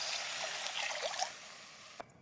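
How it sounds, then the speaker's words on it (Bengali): Water poured into a pan of frying masala to make gravy for a river fish curry makes a soft, close trickling splash with a few small gurgles before it stops abruptly. "ঝোলের পানিটা দিয়ে দেবো।"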